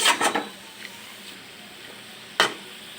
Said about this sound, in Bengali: সবজি দেওয়া শেষ, ভালো করে নেড়ে কষিয়ে নেব।